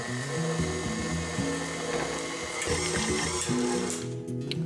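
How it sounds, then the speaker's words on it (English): A stand mixer runs steadily on low speed, beating a sticky carrot bread dough made with a yeast mixture, the motor whirring with a continuous mechanical drone throughout. "we're gonna beat it on low until a sticky dough forms"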